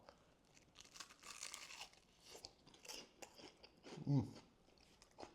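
A bite into crunchy, crispy battered homemade fish, with scattered crackly crunches building to one louder close crunch near the end, under light background noise and faint talk.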